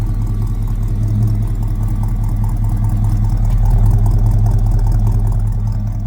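A 1966 Chevy C10 truck engine idles steadily up close, a continuous low rumble with no breaks and no talking.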